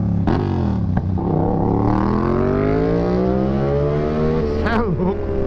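A car fitted with an aftermarket exhaust roars loud and close, its engine revving up in a long rising pull with sharp blips at the start and end, while people talk over it.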